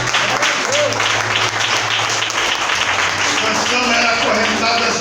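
A church congregation applauds during a Portuguese-language sermon, steady dense clapping filling the space with voices and a sustained low tone running beneath it.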